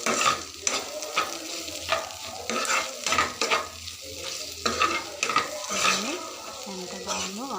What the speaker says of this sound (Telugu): వేసుకొని గరిటెతో చిన్నగా అటు ఇటు తిప్పండి